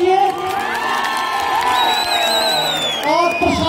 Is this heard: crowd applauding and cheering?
yes